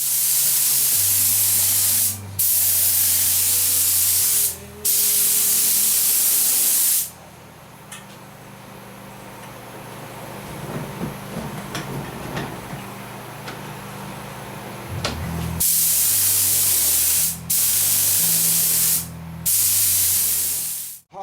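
A spray gun lays epoxy primer onto car wheels for a 1972 Camaro SS in loud, hissing bursts separated by short pauses, with a quieter stretch of handling noise and clinks between passes.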